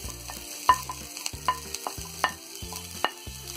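Cabbage and spring onions stir-fry for Chinese bhel, a low constant sizzle broken by rhythmic scraping tosses and sharp clinks of a spatula against the wok about every three-quarters of a second, with no voices.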